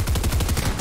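Rapid burst of gunfire in a video game, several quick thudding shots in a fast regular rhythm, loud and close.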